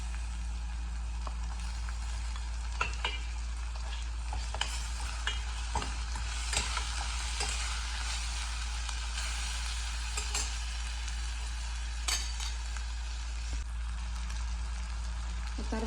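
Mutton frying with ginger garlic paste, turmeric, salt and chili, a continuous close sizzle with scattered stirring scrapes and clinks over a steady low hum.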